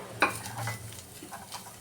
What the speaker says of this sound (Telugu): ఆ తడి అంతా పోయే వరకు వేయించుకుందాం